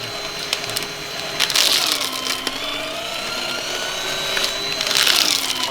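A shredder chews up plastic water bottles with a continuous loud grinding and crunching roar, its pitch shifting slightly as the load changes, with no one speaking.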